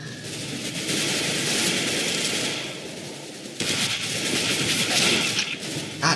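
AK rifle fire in Counter-Strike: GO, a loud, sustained burst of automatic shots that pauses briefly midway and then resumes, with no voices over it.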